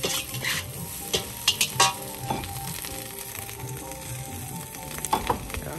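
Cabbage frying in a pan at an Indonesian street food stall, a steady close sizzle broken by scraping stirs and clattering spatula strokes in irregular bursts.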